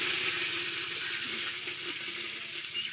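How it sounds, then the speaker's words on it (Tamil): Mustard seeds and curry leaves sizzling in hot oil in a village-style home kitchen, a soft steady crackle and hiss with faint popping, heard alone and fairly quiet. "அடுப்பத்தை வச்சு எண்ணெய் ஊற்றி வச்சு அம்மா கடுகு போடுறாங்க"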